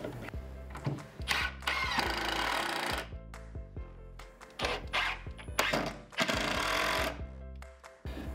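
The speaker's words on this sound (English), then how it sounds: "I'm gonna use my quick clamp to hold this side while I screw the other side in." A drill drives screws into a wooden bench side made from a headboard, with repeated whirring bursts of varying pitch close by.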